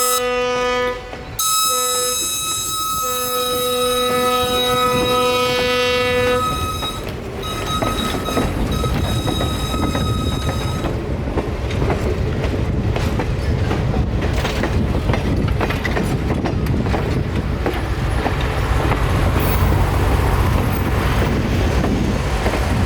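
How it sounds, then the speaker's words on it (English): A passenger train at the Florida Railroad Museum passes close by, its horn sounding in long tones at first, then wheels and cars rumbling and clattering steadily, heading back north toward the rail yard. "just in time to see them heading back north to Willow Yard to put the train away for the week"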